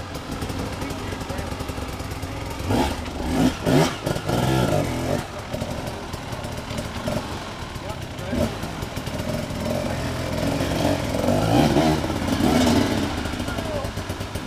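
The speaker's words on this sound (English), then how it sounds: "you just push a button, whoop, crank it back up." A motorcycle with electric start cranks and catches, then its engine idles and revs in a choppy, uneven rumble close by, with a person talking over parts of it.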